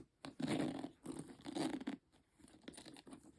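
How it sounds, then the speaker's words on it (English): The stiff zipper on a Louis Vuitton Bagatelle bag is pulled in a few rough, scratchy strokes, quiet and close, with short pauses between. "the con of this bag, and it's a big con, is mainly the zipper"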